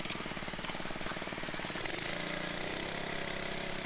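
A power trowel fitted with finish blades runs over concrete with a loud, close, steady engine drone and a rapid rhythmic pulsing, its tone shifting partway through, with no voices.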